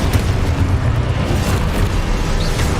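Confringo blasts in the video game Hogwarts Legacy go off as loud, rumbling booms layered amid continuous combat spell noise, dense and close throughout.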